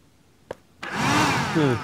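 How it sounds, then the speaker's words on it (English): A handheld vacuum in the game Deponia 2 switches on after a click and runs with a loud steady whooshing suction roar that changes pitch slightly. "I'm doing this to test the suction power of the handheld vacuum"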